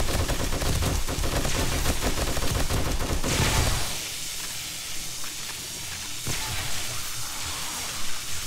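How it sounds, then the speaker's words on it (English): Rapid rifle fire from the video game 7 Days to Die during a horde fight with the War3zuk mod, loud dense automatic bursts with hissing edges that cut off abruptly after a few seconds, leaving quieter game ambience and one final shot. "This rifle is devastating."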